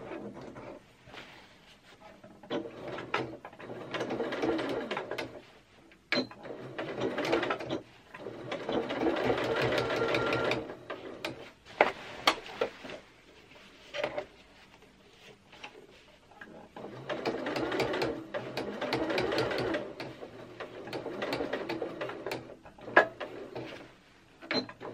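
A sewing machine top stitches a skirt hem close to the fold, running in several separate bursts of steady whirring stitches with short pauses between runs, near and alone.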